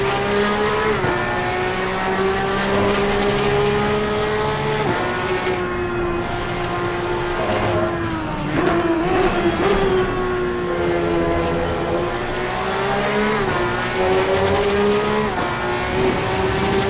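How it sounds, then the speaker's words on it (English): Porsche 911 GT3 Cup race car in Assetto Corsa Competizione at Donington Park. The engine runs at loud, sustained high revs down the straight, with pitch dips and tone shifts as it brakes and downshifts for the chicane, and nobody speaks. "Full throttle down the straight and hard on the brakes while trying to get a decent line through the chicane."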